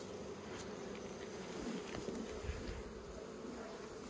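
Honeybees drone steadily around an open beehive while it is inspected, a faint, continuous buzzing with no clear break.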